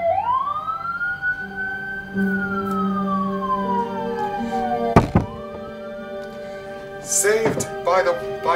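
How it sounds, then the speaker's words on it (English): A siren rises and falls in a long sweeping wail, loud and close, with a sharp thump midway and scattered voices and clatter underneath. "Saved by the siren wailing."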